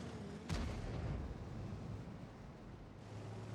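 A single deep tank cannon shot booms early in a World of Tanks battle, sounding distant and muffled, with its rumble fading into a low, windy background hum.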